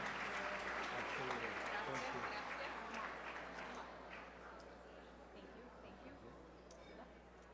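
Applause from a gala audience at a Calabrian heritage evening, fairly distant and soft, dense at first and then gradually thinning and fading, with some voices mixed in underneath.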